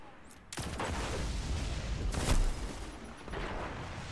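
Shotgun blasts and other gunfire ring out during a Destiny Crucible multiplayer match, with a sharp burst near the start and heavy overlapping shots that peak in the middle, loud and close.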